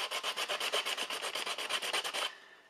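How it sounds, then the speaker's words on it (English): Edges of case pieces being sanded by hand, about fifteen quick, even back-and-forth rasping strokes up close that stop abruptly near the end, with no talk. "just gently sand each side of the edge pieces, and it will primarily sand these edges"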